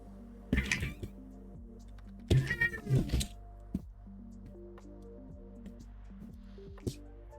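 A cat meows twice, close and clear, with a third faint chirp near the end, over a quiet steady background hum.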